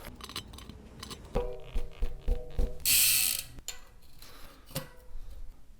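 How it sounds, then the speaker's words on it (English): Ratcheting clicks, metallic clinks and a short loud rasp as a cassette and brake rotors are fitted to carbon gravel bike wheels, close and irregular with no talk. "Now we can put the cassette and rotors on and get it on the bike."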